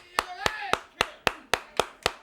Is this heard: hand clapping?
yes